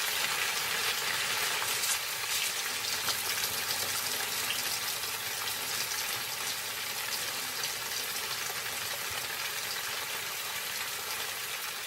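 Heavy monsoon rainstorm in southwestern Sri Lanka, a dense steady wash of rain pouring down without pause, loud and close, with no voices.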